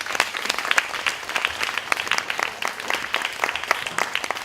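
A crowd at an evening event at a venue claps steadily, with distinct sharp individual claps forming a lively patter that holds at an even level for several seconds, no speech over it.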